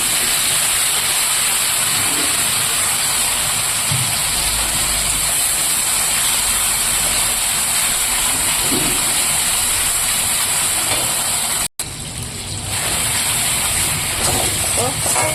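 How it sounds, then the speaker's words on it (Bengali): Spices frying in mustard oil in a home kitchen give a steady, loud hiss and sizzle that runs nearly unbroken, with a brief cut near the end. "এবার আমি মশলাটা কষিয়ে নেব"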